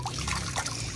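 Fresh water trickling and splashing out of a pipe or tap in a village setting to fill a supply for farm animals, a continuous close running flow with no talk.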